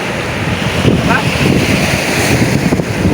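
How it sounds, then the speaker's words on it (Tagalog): Strong northeast monsoon wind buffets and roars steadily at the shore, with a rushing, ocean-like whoosh and a brief voice in the middle. "Ang hangin."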